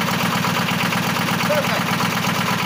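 Multicar M22 diesel engine started without glow plug preheating, running with a loud, steady, rhythmic chugging knock close by throughout.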